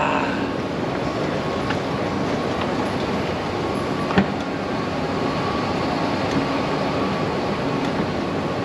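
A train passes in Bangkok's Chinatown, a steady loud rumbling roar with a faint rhythmic clatter that holds evenly throughout, with one brief sharp knock near the middle and no talking.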